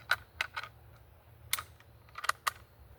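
Cartridge loaded into a Carcano rifle bolt: a handful of sharp metallic clicks and clacks in quick irregular succession, close and crisp, with a quiet hum beneath.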